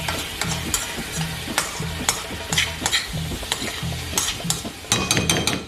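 A dish with red pepper is stirred in a pan, with a spoon scraping in repeated strokes over a steady close sizzle and sharp clinks against the metal.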